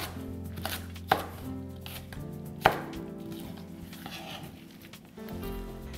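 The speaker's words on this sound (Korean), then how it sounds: "3, 4개씩 해서 2cm 정도 굵기로 썰어주신다고 생각하고" A kitchen knife chops tteokbokki rice cakes on a cutting board during a large-batch military cafeteria cooking session, with two sharp, distinct knocks standing out against steady background clatter and kitchen noise.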